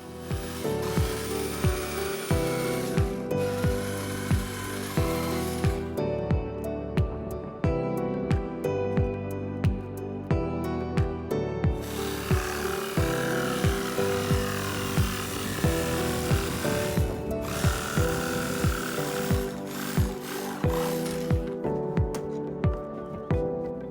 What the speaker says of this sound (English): used a jigsaw to cut the PVC in half